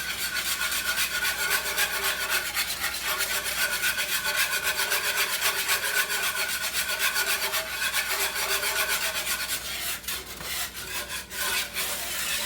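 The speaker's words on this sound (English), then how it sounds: "I always like to scrape the side of the pan." A whisk scrapes steadily across the bottom and sides of a pan of flour-thickened gravy made with tri tip drippings, a continuous close, rasping rhythmic scrubbing with brief uneven strokes near the end.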